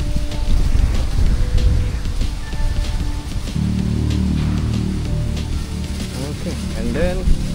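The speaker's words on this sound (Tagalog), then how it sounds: "Malakas na hangin." Strong wind gusts during an extreme wind test of DJI Mini 5 Pro, Air 3S and Mavic 4 Pro drones, a rough buffeting roar that steadies into a constant rush, with voices talking over it.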